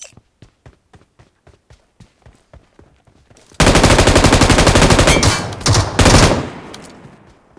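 An M249 machine gun in PUBG Mobile first fires single spaced shots, then breaks into a long, loud continuous burst that stops briefly and resumes, with no voices.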